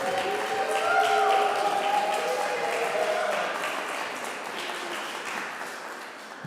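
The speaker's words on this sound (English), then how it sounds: "So please give an applause." Applause for a curator at a comics lecture opening, a crowd clapping in a hall with murmured voices mixed in, fading gradually over several seconds.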